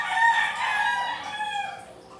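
A rooster crows on a rural farm, one long, loud, close call that stretches across the whole moment and then tapers off, with no talk over it.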